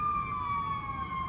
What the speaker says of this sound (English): Never seen this many ambulance.